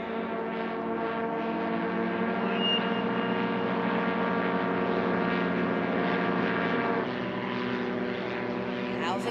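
Propeller aircraft engine drone with strong harmonic tones, a STOL plane in a drag race engaging its reversible pitch propeller, steady and loud with a shift in pitch near the end; commentary voice runs over it.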